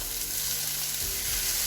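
Goan chorizo hits a pan of softened tomatoes and fries with a dense, loud, continuous sizzle, with a low thump partway through as the mixture shifts, and no talking.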